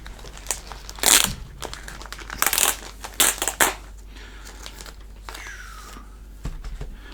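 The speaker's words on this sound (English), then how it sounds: "it comes in this little plastic bag, so we'll open that up here." Plastic bag around a CD package being opened, with several bursts of loud, close crinkling and crushing separated by quieter rustling, no talk.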